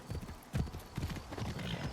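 Horse hooves clip-clop at a steady trot in the video game Assassin's Creed Shadows, a close, continuous run of beats over faint background ambience, with no talking.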